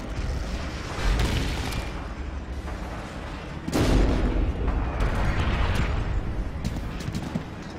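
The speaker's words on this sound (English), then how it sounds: "You spot something and seconds later you see huge explosions going off at that location." Artillery explosions in the World War II video game Forgotten Hope 2, heavy booming blasts landing in close succession, loud and rumbling with a sharp impact partway through and continuous battle noise around them.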